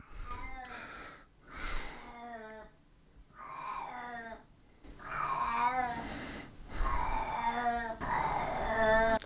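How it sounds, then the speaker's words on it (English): A 17-year-old pet cat named Ozzy meows repeatedly and loudly up close, long drawn-out cries coming in a steady series one after another, alone with no voices. "Please ignore my cat."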